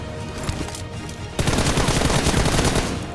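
Rapid gunfire from the Free Fire mobile battle game during a one-on-one team deathmatch, with dense automatic bursts that intensify sharply partway through and continue loud and unbroken to the end.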